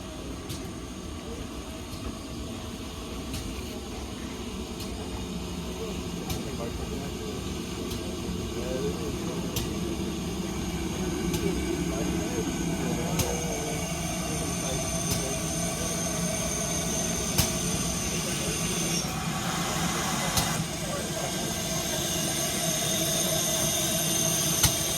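Steam locomotive Hagley Hall rolls into the yard at a Severn Valley Railway autumn steam gala, giving off a steady mechanical rumble and hiss with regular sharp clicks, its volume gradually building.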